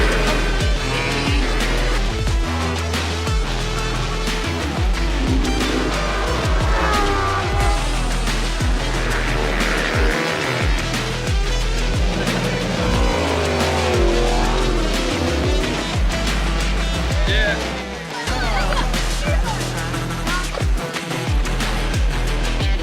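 Lamborghini Super Trofeo race cars roaring off the start at The Bend Motorsport Park, a dense, loud wall of engine noise with revving, passing cars and brief tire squeal, continuous for the whole stretch with no talk.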